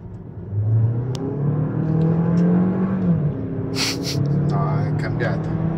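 An Alfa Romeo Tonale 1.5 160 hp MHEV with TCT7 gearbox, Veloce trim, pulls hard in race mode, its engine droning loudly and rising steadily in pitch, with brief voices and a gasp over it.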